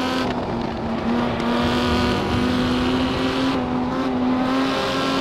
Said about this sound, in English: small diameter exhaust tubing with trumpeted exhaust. It gives you a lot of that kind of sound